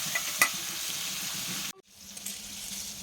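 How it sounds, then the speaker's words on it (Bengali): Pieces of rohu fish fry in hot oil in a home kitchen, a steady close sizzle with a faint clink near the start, then a sudden brief drop to near silence before quieter frying resumes. "মাছগুলোকে আমি ভেজে নিচ্ছি"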